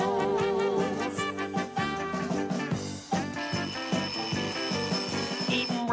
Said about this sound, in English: Oh, the bells, listen to the bells.